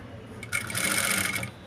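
A sewing machine runs a stitching burst of about one second along fabric piping, a steady fast whirr that starts abruptly and stops, heard on its own.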